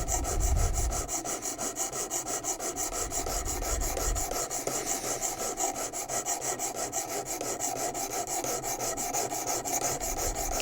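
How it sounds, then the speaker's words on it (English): A knife blade drawn repeatedly across a coarse stone on a WorkSharp Precision Adjust sharpener, a close, steady rasping scrape repeating in quick regular strokes with a brief low thump near the start and another near four seconds. "So most of the work is being done right now with the coarsest stone."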